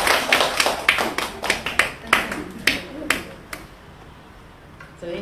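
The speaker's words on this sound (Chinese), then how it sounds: "来给他一个爱的掌声" Scattered audience clapping at a group gathering: a loose run of sharp, uneven claps that thins out and fades to near silence, with one last clap at the end.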